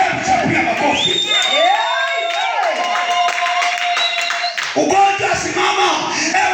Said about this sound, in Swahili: Hebu chapia makofi